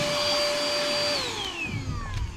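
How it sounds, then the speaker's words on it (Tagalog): A small handheld gadget vacuum cleaner with a brush attachment whines steadily, then its motor pitch drops as it winds down, close and loud with no speech. "Yan, pwede ka nang mag-vacuum."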